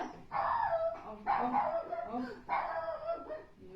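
A puppy barks and yips in three loud, close bursts, separated by short pauses, with a whimpering tone at the ends and a voice-like quality throughout.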